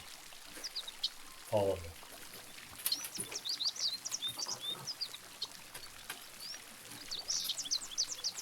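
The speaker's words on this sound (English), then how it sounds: "I can hear the waterfall, and the water's trickling" Continuous soft wash of flowing water with birds chirping over it, and a person speaks briefly.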